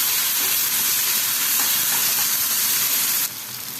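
Chopped tomatoes hit a hot pan with garlic and sizzle loudly, a dense steady hiss that holds for several seconds and then drops to a softer sizzle near the end.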